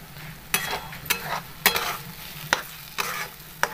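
Egg bhaji stirred in a pan over low gas, a spatula scraping in about six sharp strokes at steady intervals over a faint, constant sizzle; close and clear, with no talking.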